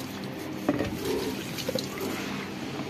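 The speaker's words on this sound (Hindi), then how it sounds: "उनको भी थोड़ा थोड़ा पानी डालते।" Water poured from a container onto potted plants, including basil, splashes and trickles in a soft, steady flow close by, with a few brief drips and knocks.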